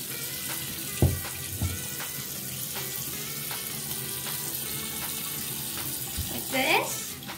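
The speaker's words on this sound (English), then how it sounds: "Now put your hands back in the water." Steady running water from a tap splashing into a sink during handwashing, a continuous hiss with a few knocks and light clatter, and brief voices in the background.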